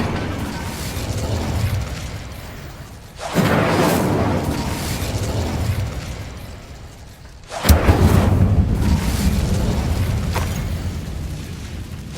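Incendio fire spells cast in the video game Hogwarts Legacy, two sharp bursts of flame with a booming, whooshing onset around three and eight seconds, each trailing off over a low rumbling game soundscape.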